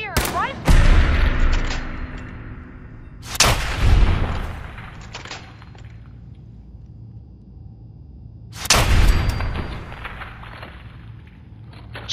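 Three loud, sharp shots ring out several seconds apart from the Silver Shroud's silver shooter pistol in Fallout 4, each with a long reverberating tail over a low ambient hum and faint footsteps.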